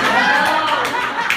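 Comedy club audience clapping in a brief, dense burst of applause that stays steady and fairly loud throughout, with some crowd murmur mixed in.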